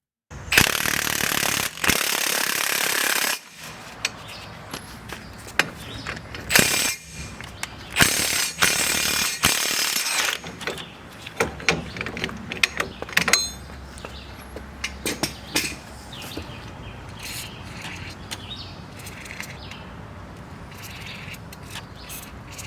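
A hub puller grinding a seized wheel bearing hub loose: a loud, sustained rattling power-tool burst at the start, then repeated hammering impacts and metallic creaks fading into quieter scraping, with no talk.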